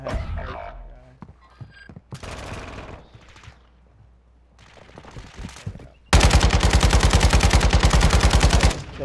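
Video game gunfire, scattered thuds and single shots early on, then a loud sustained burst of rapid automatic fire in the last few seconds.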